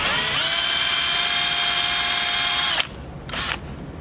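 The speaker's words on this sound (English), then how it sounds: "I'm going to use a .050 drill bit and drill down the post about halfway." A small power drill with a .050 bit bores into a die-cast metal post on a 1968 Matchbox Mercedes truck, whining loudly and steadily for nearly three seconds, then stopping, followed by a brief second burst.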